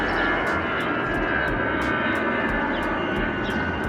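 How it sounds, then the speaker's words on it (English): An airplane roars overhead, a loud, steady engine drone that fills the air throughout. "See the airplane. It's going."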